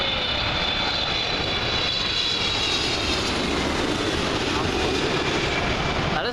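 A Pakistan International Airlines Boeing 777 lands on runway 23 at Toronto, its loud, steady broadband engine roar filling the whole stretch without pause, close and continuous.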